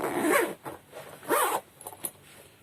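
A zipper is run along a long boot during a hand repair, giving two quick rasping zips followed by a few small clicks and ticks at close range.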